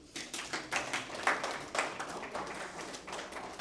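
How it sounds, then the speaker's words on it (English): Scattered applause from a conference audience at a tech talk, a loose patter of clapping hands that swells and dips without settling into a steady roar, moderately near and fairly quiet. "So everyone, please, a round of applause."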